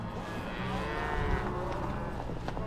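Cattle moo in long, low, drawn-out calls nearby during a cattle drive in remote Montana, overlapping against a steady outdoor background.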